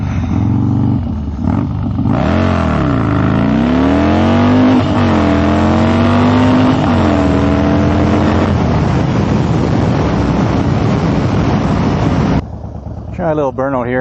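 A Harley-Davidson Dyna with a 95-inch motor revs and accelerates hard, its loud engine note rising and falling through gear changes, then cutting off abruptly near the end, close by.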